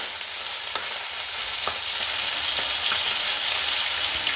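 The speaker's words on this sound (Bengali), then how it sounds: "মাছের মুড়োটা খুব ভালোভাবে আমার ভাজা হয়ে গেছে" A fish head sizzles steadily in hot oil in a home kitchen while cabbage dish preparation is underway, a continuous bright crackle with occasional sharper pops, close and fairly loud, no voices.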